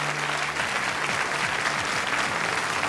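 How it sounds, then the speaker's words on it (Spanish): Studio audience applause on a Spanish-language radio programme as a guest is welcomed, a dense steady wash of clapping that fills the whole stretch, with low voices faintly underneath. "¡Fuerte el aplauso!"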